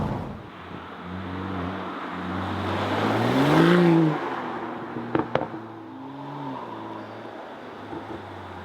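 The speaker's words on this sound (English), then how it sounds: "set cruise control, let the car sail, and enjoy the rest of this ride here" A BMW X4 M40i cruises on cruise control, its engine holding a steady, moderately loud hum with slow tonal swells, and a couple of sharp clicks partway through; no one speaks.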